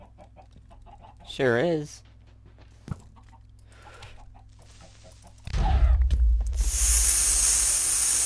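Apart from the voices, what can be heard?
chickens clucking in Minecraft video game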